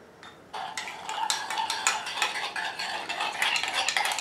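A hydrogen peroxide hair treatment mixture is stirred in a bowl, giving close, continuous clinking and scraping with quick irregular strokes, without speech.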